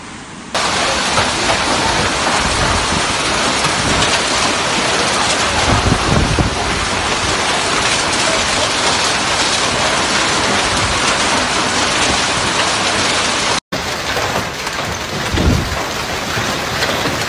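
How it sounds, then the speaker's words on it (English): A severe hailstorm in Germany brings dense, loud, continuous pelting and rushing noise with low rumbles, sustained and harsh, briefly cut by a short gap near the end. "Germany was hit by its most severe hailstorm in the recent years"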